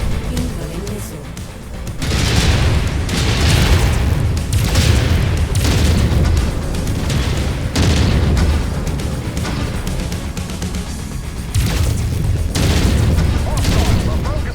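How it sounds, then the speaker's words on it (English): Missile explosions in the MechWarrior 5 video game pound out as dense, heavy booms in repeated waves, loud and close, with rumbling low end throughout and a brief quieter lull near the start; a voice speaks over the blasts. "Incoming missile."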